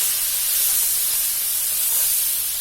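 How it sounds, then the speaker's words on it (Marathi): Ground wet masala paste fries in hot oil for a pigeon pea curry, a bright, continuous close-up hiss and sizzle that stays steady and fairly loud without pause. "मसाला चांगला भाजून घ्यायचा आहे तेल सुटेपर्यंत."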